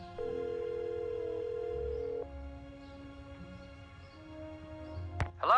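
A phone call rings through in the Nancy Drew game Danger on Deception Island: a steady electronic tone holds for about two seconds, then gives way to a quieter hum with a brief click near the end.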